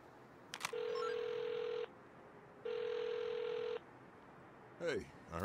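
An electronic phone ring in the video game Saints Row sounds twice in long, even bursts separated by a pause, followed by a brief voice at the end.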